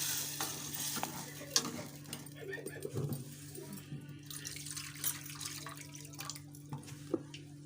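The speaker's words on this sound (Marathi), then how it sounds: "ही डाळ फोडणीला घालत आहे।" Lentils (dal) tipped into hot tempering in a pan, sizzling with stirring and scraping noises, a steady close fry under a low hum, no speech.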